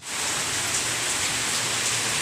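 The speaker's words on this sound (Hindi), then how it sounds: "देखिए कितनी झमाझम बारिश हो रही है, बहुत तेज़ बारिश हो रही है।" Heavy rain pours down steadily, a dense continuous hiss of drops drumming on surfaces, loud and close, with no voices over it.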